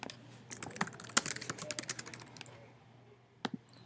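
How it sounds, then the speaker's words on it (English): Someone types on a computer keyboard nearby, a quick run of soft key clicks that tapers into a few isolated taps with pauses between them. "Type in book review by Mr. Anand"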